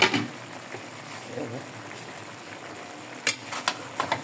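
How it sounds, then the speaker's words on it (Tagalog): Garlic and onion fry in a pan while chicken liver and gizzard adobo cooks with vinegar and soy sauce. A low, steady sizzle runs throughout, with a few sharp clicks of stirring near the end. "Naprito na yung ating bawang sibuyas."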